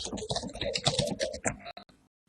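Rapid, irregular clicking of computer keyboard keys from an unmuted participant on an online video call, close and fairly loud, typing in quick bursts before trailing off into silence.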